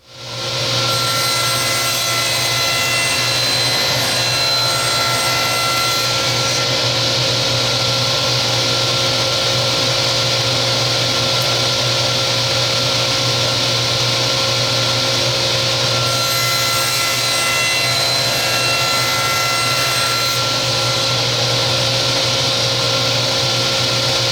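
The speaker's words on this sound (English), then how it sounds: "take it over to the table saw, and we're going to rip some 1/4-inch by 1/4-inch strips for this lining of the instrument" A table saw rips 1/4-inch by 1/4-inch walnut strips for ukulele lining, a loud continuous whine and buzzing cut that holds steady for over twenty seconds, with the pitch brightening as the blade bites through each strip.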